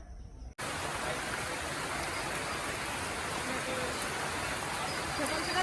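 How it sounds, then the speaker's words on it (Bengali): After a brief quiet start, steady rain pours down in a dense continuous hiss, fairly close, at an outdoor temple fair. "বৃষ্টিতে ভিজে ভিজে স্নান করতে নেমে পড়েছি"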